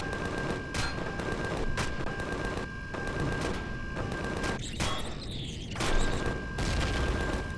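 Turret machine-gun fire from the game Empyrion Galactic Survival, a dense, continuous rattling burst of rapid shots running throughout with a steady electronic hum beneath, briefly swelling louder near the end.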